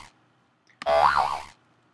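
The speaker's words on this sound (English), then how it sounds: "I want to play the cartoon hop." A cartoon hop boing effect: a single short springy twang that wobbles up and down in pitch for about half a second, loud and alone against near silence.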